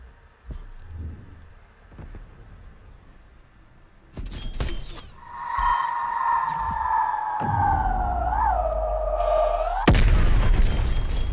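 A spawn tube is fired in Black Ops Cold War on the Miami map: a sharp launch bang, then a rising whistling whine as it flies, ending in an abrupt impact burst on landing.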